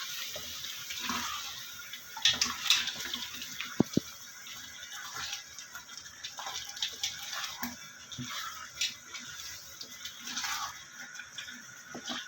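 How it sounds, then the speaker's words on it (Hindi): Water pours and splashes into a pot of spinach chicken curry (palak gosht) in a home kitchen, a soft, steady trickle with a few clinks and drips, faint and continuous throughout. "इसको मिक्स करके तो हम थोड़ा सा पानी शामिल कर देंगे इसमें"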